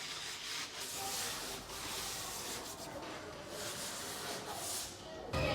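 A medium abrasive sponge rubbing old enamel paint off a large cabinet, a steady close scratchy rasp in continuous back-and-forth strokes.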